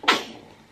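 A single sharp sneeze bursts out close by, then trails off quickly into quiet with no talking.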